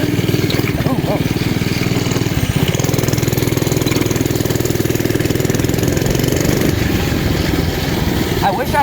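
A 98cc mini bike engine runs steadily and loudly throughout, a continuous rough putter with a slight dip in pitch midway, close to the listener.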